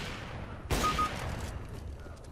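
A single loud, sharp gunshot burst rings out in the first-person shooter game Overwatch, lasting under a second and then fading to quiet game ambience.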